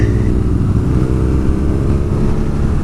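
A 2017 BMW R nineT Scrambler motorcycle's engine runs loud and close, holding a steady, dense roar with no talking.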